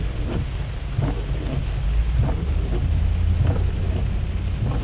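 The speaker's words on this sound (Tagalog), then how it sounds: "Grabe yung ulan." Heavy rain pours steadily on a city street, 10th Street in Cubao, on a rainy New Year's Day, with low rumbling thunder and a few sharper cracks rising through the constant downpour.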